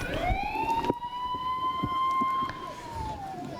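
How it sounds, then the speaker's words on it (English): A long sustained full-time siren sounds at a rugby league Trans-Tasman test match, a steady wailing tone held for about two seconds over crowd noise, with a commentator talking over it. "That is the siren, and that is the close."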